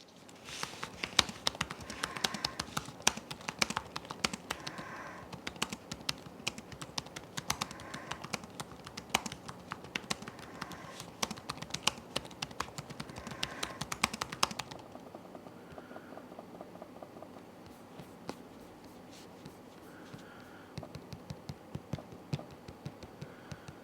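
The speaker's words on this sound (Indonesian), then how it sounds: "berikut ini bisa coba tampilin deh feedback test dari keyboard touchpad pada laptop ini" Keys on an ASUS ExpertBook B9406CAA laptop keyboard and its touchpad are tapped in quick, irregular clicks, closely recorded and crisp, with the sound turning softer and sparser partway through.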